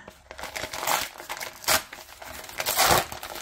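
An Amazon package holding a MacBook privacy screen protector being cut and pulled open, with close crinkling and tearing of packaging material in uneven bursts and rustles, no talking.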